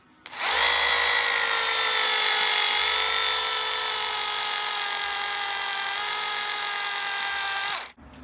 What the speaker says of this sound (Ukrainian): Перфоратором не заходить.